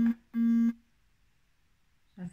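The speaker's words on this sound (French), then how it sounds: "Ça fait bip sur mon téléphone." A phone gives a short electronic beep, then a second longer steady tone, both clear and close in a quiet room, followed by faint speech at the end.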